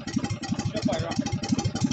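A 1967 Jacobsen Chief tractor's engine runs steadily for two seconds, its close, rhythmic low chugging pulsing evenly with no talk over it.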